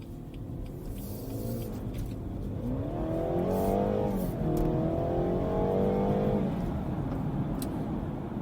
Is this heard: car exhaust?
yes